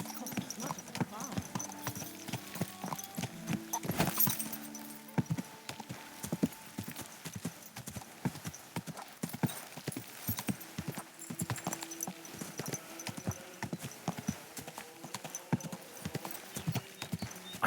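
Steady clip-clop of horse hooves in Kingdom Come: Deliverance II, a medieval video game, with even rhythmic steps close by, a brief whinny early on, and characters speaking over the hoofbeats.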